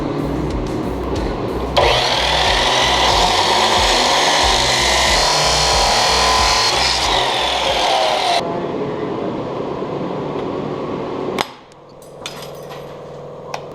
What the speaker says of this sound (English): Chop saw.